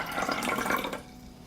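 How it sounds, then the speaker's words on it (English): Water poured from a container over dried sage leaves in a pot, a short splashing gush that fades out after about a second, close and fairly quiet. "I pour 250 milliliters of water."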